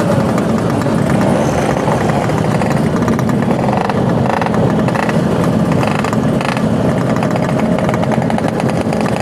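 A loud, buzzing two-stroke motorcycle engine runs steadily throughout, its pitch rising and falling slightly as it revs, with no voices.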